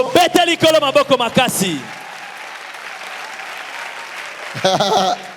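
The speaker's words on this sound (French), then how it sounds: "Acclamons pour le Seigneur." Congregation at a church service in Brazzaville breaks into applause, a broad wash of clapping that fills the gap between bursts of a preacher's loud voice before and after.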